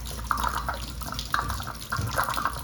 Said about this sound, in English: There's the excess water draining.